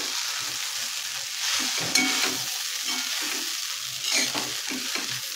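Soaked poha being stirred in a pan with turmeric, giving a soft steady sizzle with repeated scraping strokes of the spoon, close and continuous, with no voices.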